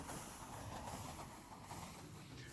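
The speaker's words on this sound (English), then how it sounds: "the other train started moving" A Minecraft Create mod train begins rolling along its track, a steady broadband rumble and hiss with faint clickety-clack, continuous and fairly close, no voices.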